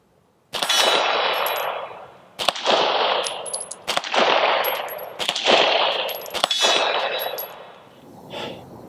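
Gunshots fired at an outdoor range with a red dot sight, about five loud sharp reports spaced a second or so apart. Each shot rings into a bright metallic clang.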